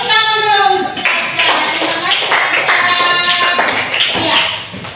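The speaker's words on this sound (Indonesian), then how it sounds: "Tepuk tangan dulu." Classroom clapping as a teacher calls for applause after a pupil's answer, with rhythmic hand claps that sound like patterned group clapping running steadily throughout, mixed with children's voices.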